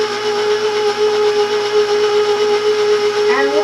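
An electric mixer runs on low speed through oatmeal cake batter, giving a steady, even motor whine and hum that stays loud and unbroken throughout, with a slight shift near the end.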